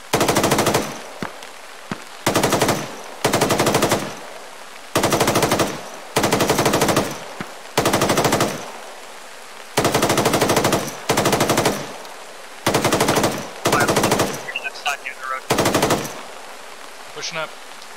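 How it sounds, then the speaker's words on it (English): Bursts of machine gun fire in ArmA 3 come in repeated loud clusters, about a dozen separate rattling volleys, each lasting under a second, with brief quiet gaps between them and faint talk underneath. "Contact, machine gun nest, direct front, engaging."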